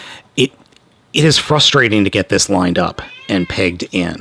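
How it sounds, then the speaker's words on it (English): Cats meow at dinner time beneath a person talking; the voice dominates, with feline cries mixed in at close range. "so if you hear the cats meowing, that's why."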